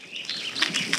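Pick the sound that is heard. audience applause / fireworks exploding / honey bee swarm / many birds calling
many birds calling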